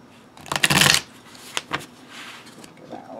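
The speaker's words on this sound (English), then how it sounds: "Give that a little bit of a shuffle here." A deck of medicine cards is riffle-shuffled by hand, giving one loud, crisp burst of rapid flutter followed by a couple of softer card taps and light handling, close up.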